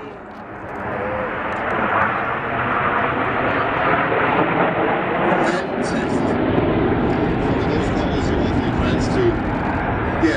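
Red Arrows jets at an airshow breaking apart in a vertical split, a loud, steady broadband jet roar that swells slightly and holds throughout, with a commentator talking over it.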